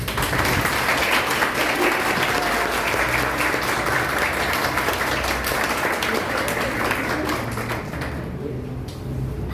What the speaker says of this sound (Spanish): Por eso les pido un emocionado y cálido aplauso